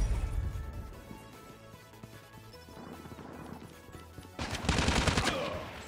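M16 rifle fire in the mobile shooter Call of Duty Mobile, heard as loud bursts of rapid shots with a dense heavy volley near the end, over layered game music and effects.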